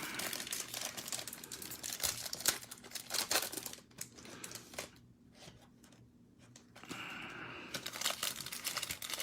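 Foil wrappers of Bowman 2020 baseball trading card packs from blaster boxes are torn and crinkled open in quick close-up bursts, with a short quieter pause midway before the rustling resumes.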